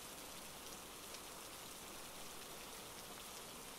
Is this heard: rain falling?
yes